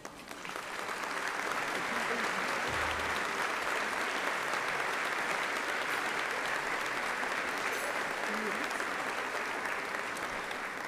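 A large audience at a school district State of the District event gives sustained applause for community leaders, police, fire and nonprofit partners, a dense, even wash of clapping that rises quickly and holds steady throughout.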